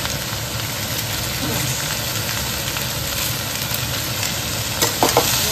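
Cumin powder and spices stirred in a frying pan, a steady close sizzle with scraping strokes running throughout and a few louder clatters near the end.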